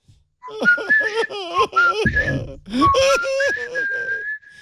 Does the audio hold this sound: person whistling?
yes